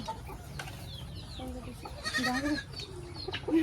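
Goats bleat during a flood, several short wavering calls close by over a low noisy background, with fowl-like chirps and a faint voice in the mix.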